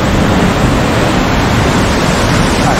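A waterfall in Oku-Nikko pours down in about five separate streams, making a loud, steady, unbroken rush of water that fills the whole sound with no voices.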